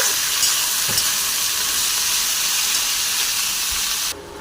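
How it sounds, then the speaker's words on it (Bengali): Potatoes, carrots, beans, capsicum and peas fry in a pan with a dense, steady sizzle and occasional stirring scrapes, cutting off sharply near the end. "হালকা করে ভেজে নেব।"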